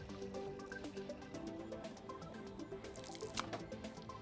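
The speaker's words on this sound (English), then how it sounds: "So we'll continue to run the backwash for about 15 to 20 minutes" Backwash water from a whole-house water filtration system draining steadily, a continuous close trickling and dripping wash with small splashes, heard alone with no talk.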